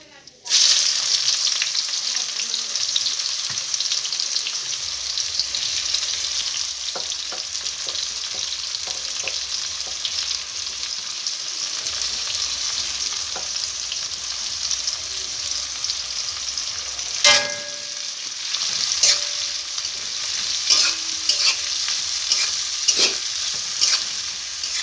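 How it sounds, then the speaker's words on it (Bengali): Chopped onions fry in a pan with a constant hiss and sizzle, broken by repeated scraping strokes of a spatula and occasional louder crackles, close and uninterrupted by speech. "কিছুক্ষণ ধরে নাড়িয়ে নিন। একটু নেড়ে নেওয়ার পর পেঁয়াজ কুচিগুলো দিয়ে দেবেন।"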